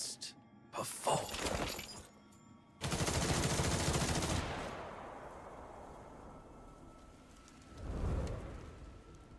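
In an action video game, units open fire together in a loud burst of rapid gunfire and shattering impacts. It decays into a rumbling tail, and a second thump follows near the end. No one speaks.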